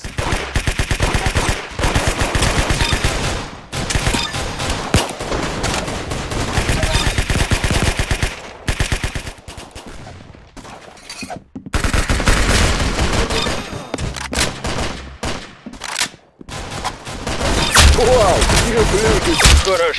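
Rapid automatic gunfire from the Roblox game Arsenal comes in long, loud, dense bursts separated by brief gaps, with occasional voices talking over the shooting.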